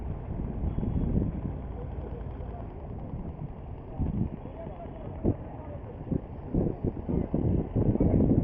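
Low, rumbling engine drone of a ship on the Buriganga river near the Buriganga bridge, heard continuously beneath wind buffeting the microphone with occasional thumps.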